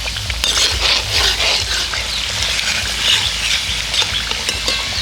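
Aloo puri deep-frying in hot oil, a steady crackling sizzle with bubbling texture that swells slightly in places, close and continuous, with no talking.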